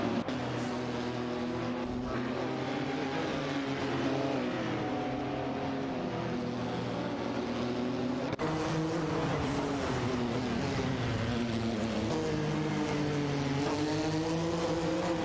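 Race cars in a racing video game roar steadily around the track, a dense continuous engine drone with shifting pitch and layered motors throughout.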